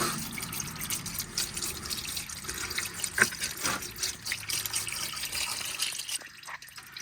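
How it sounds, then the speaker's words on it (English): Engine oil drains from the drain plug of a 2.3L Ford Bronco, a steady, close trickle and splatter of liquid that continues throughout and fades toward the end. "So we'll let that drain."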